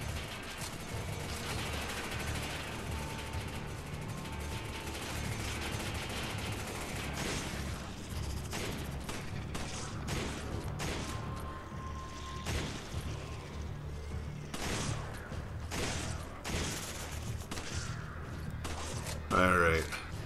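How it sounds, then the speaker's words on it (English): Gunfire from enemies in the video game Resident Evil 5, dense volleys and bursts of shots crackling over a busy, loud game soundtrack throughout, with a sharper burst near the end. "he's definitely shooting at me"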